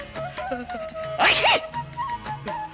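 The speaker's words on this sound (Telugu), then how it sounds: "ఏమిటా దిక్కుమాలని తుమ్ములు?" A loud, sharp sneeze bursts out near the middle of a comic film scene, standing out briefly over a steady bed of background music.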